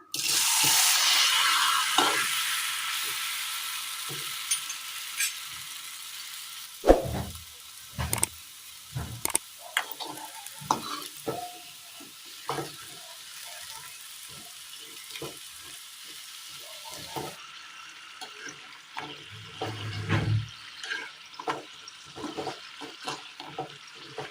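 Rolled rice flour and coconut balls dropped into hot coconut oil with a pinch of turmeric, a broad sizzle that starts loud and settles into quieter bubbling, broken by sharp scattered clinks and stirring knocks.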